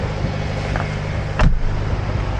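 Steady engine and road rumble from inside a car driving through Toronto and Mississauga, with a short louder thump partway through and no speech.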